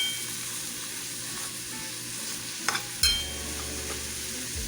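Frozen broccoli tumbling into a hot frying pan, a faint background sizzle that jumps to a sudden louder hiss and crackle as the florets land, then settles into steady frying with a stir.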